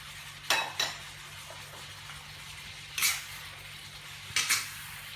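Squid stir-fried with long beans and homegrown holy basil in a pan, with a few sharp scrapes and clatters of a spatula against the pan spread apart over a low steady hiss.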